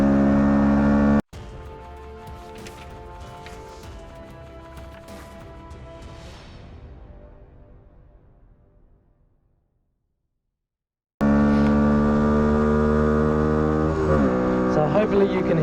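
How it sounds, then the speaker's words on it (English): Bullit Hero 50cc double overhead cam motorbike engine while riding in cold weather, a steady loud buzzing drone that fades away, cuts to silence, then returns loud and close. "This bike is fairly loud, and today we are riding the Bullit Hero 50cc double overhead cam bike."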